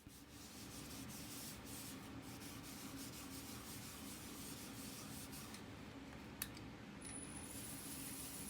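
Wooden bowl spinning on a lathe while abrasive paste is worked in at low speed, a soft steady rubbing hiss with one brief sharp tick near the end.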